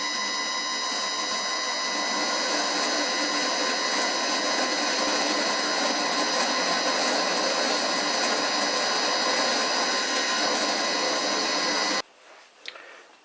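A metal lathe makes a steady, loud, whining cut while blind-machining a screw-on drill chuck arbor with a 1.5 mm wide tip, ending abruptly near the close with a few faint clunks. No one speaks.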